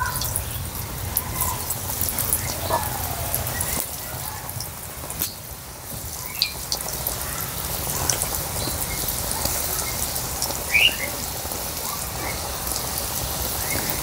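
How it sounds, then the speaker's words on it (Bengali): Cabbage balls dropped into hot oil to deep-fry, a steady soft sizzle and bubbling that continues evenly throughout with small crackles. "এবারে একটা একটা করে তেলের মধ্যে ছেড়ে দেব।"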